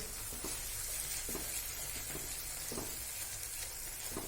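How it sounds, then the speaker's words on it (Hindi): Tomatoes cooking in masala in a covered pan on low flame for mutton methi, with a continuous sizzle and scattered sharp pops and sputters, moderately close and without any talk. "टमाटर पकने के बाद उछलने लगते हैं।"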